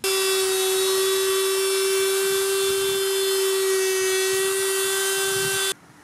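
A cordless Parkside rotary cutter bores into melamine-coated wood, a loud steady high whine with a strong constant pitch and overtones, running about six seconds before stopping abruptly.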